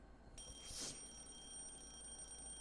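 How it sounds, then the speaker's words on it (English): Alarm clock in the visual novel Lucy The Eternity She Wished For, a sustained high-pitched electronic ring that starts abruptly and continues steadily, fairly quiet, with no talk. "that's a loud alarm clock"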